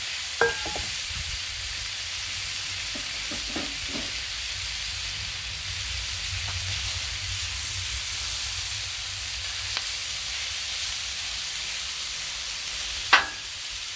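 Thick-cut chopped deli bacon sizzles steadily in a hot pan, a continuous close hiss that runs the whole length, broken by a few sharp clinks of a utensil stirring.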